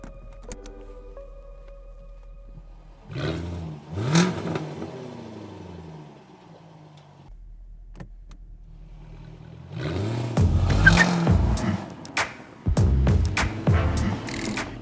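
A 2024 Jaguar F-Type R75 AWD convertible sets off. An electric whir comes first, then the engine revs in short bursts and builds into loud, throaty acceleration with clattering pulses as it pulls away.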